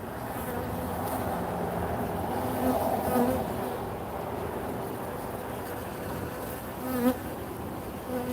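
A dense, steady buzzing of many honeybees at a hive fills the air close by, droning continuously with a few individual bees passing nearer.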